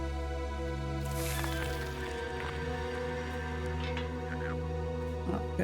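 In the cozy game Wanderstop, plants are watered with a brief, soft splashing pour that rises early and trails off, set over steady, sustained tonal background music.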